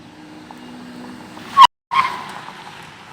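A Ji Yue 01 electric car drives with a low, steady motor whine and light road noise, then a brief louder rush of tire and wind sound before it fades back.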